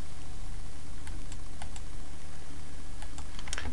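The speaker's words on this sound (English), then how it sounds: "we need to type in a description." Keys on a computer keyboard are typed in short, irregular bursts of light clicks, close by and fairly quiet over a faint room hiss.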